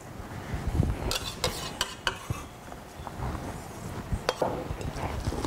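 Green papaya salad is tossed and stirred in a bowl, giving soft wet rustling broken by sharp clinks of a utensil against the bowl, close and quiet with no voices.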